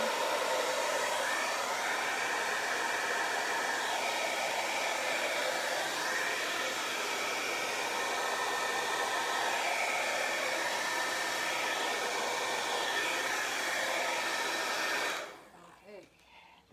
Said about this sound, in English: I'm gonna get my hair dryer again just to be sure that I won't be smearing any more paints.